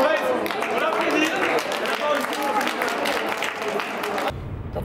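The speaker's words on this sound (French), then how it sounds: "On applaudit." A crowd at a fair game claps after the final throw, a dense patter of hands mixed with lively voices and cheering, ending abruptly.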